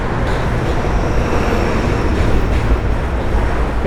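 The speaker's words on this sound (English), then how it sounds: "Hey, N train. Got the old train running again." An N train passing at night: a loud, continuous broadband rumble and roar of rail cars, steady throughout with no distinct clatter peaks.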